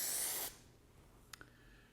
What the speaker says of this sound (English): Let's spray some out on some paper here.